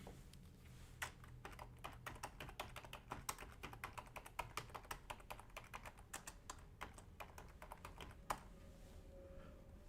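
Rapid, uneven keystrokes on a computer keyboard clatter close by for most of the stretch, with scattered louder taps, then thin out near the end; no one speaks.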